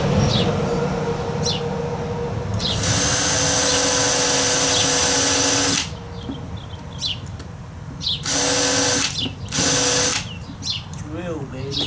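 A handheld power drill runs in a long steady whine for about three seconds before stopping, then gives shorter bursts, with someone talking between the runs.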